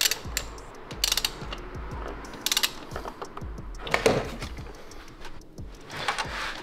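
Ratchet clicking in quick bursts while screws on an Audi engine are tightened during reassembly, several separate runs of close, crisp pawl ticks with short pauses and light handling noise between them.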